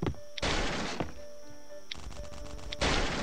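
Gunfire in a survival video game: three loud, sharp blasts ring out about a second apart, each with a brief, rattling tail over a faint steady background.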